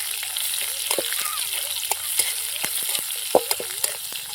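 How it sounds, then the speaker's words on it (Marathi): Finely chopped onion sautés with curry leaves in a pan for tomato chutney, a continuous bright sizzle punctuated by sharp clinks and scrapes of a stirring spoon, close up and fairly loud, without speech. "आता आपण बारीक चिरलेला कांदा घालूया आणि चांगलं आपण कांदा ना परतून घ्यायचा आपल्याला."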